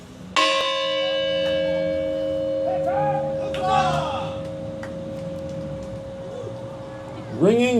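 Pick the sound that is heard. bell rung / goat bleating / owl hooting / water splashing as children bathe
bell rung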